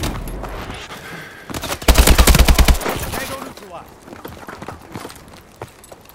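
Rapid automatic gunfire in Call of Duty: Advanced Warfare, a loud stuttering burst of shots for about a second that then gives way to scattered fire and shouted voices.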